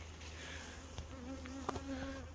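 Honey bees buzz close around farm hives during a summer honey harvest, a steady droning hum with individual insects flying past nearby and no talking.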